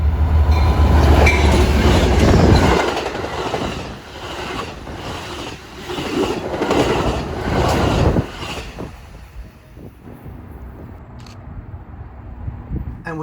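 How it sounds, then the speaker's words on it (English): Westbound Southwest Chief passenger train racing past on the BNSF line at Belmont station near Downers Grove, a loud rumbling roar with clattering wheels that builds, holds, then fades as it goes by. "we catch the westbound Southwest Chief racing out of Chicago."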